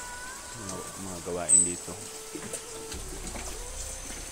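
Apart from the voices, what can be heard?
river water flowing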